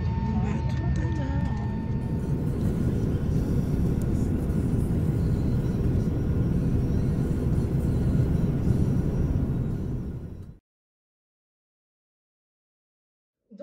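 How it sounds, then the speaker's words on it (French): Steady low engine rumble fills an airplane cabin continuously for about ten seconds, with faint voices murmuring underneath, then cuts abruptly to silence. "je suis déjà dans l'avion."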